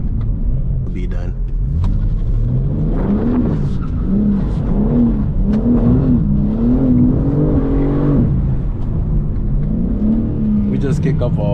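A BMW M3 CS drifting on a dusty surface, its turbocharged engine roaring loud and close as it revs up and down in surging waves, with someone talking over it.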